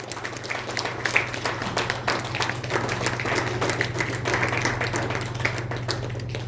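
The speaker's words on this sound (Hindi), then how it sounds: "जोरदार ताली के साथ उनका हम लोग हिम्मत अफजाई करेंगे।" Steady crowd applause honoring a guest at a training program event, dense even clapping held throughout over a low constant hum, moderately loud and without talk.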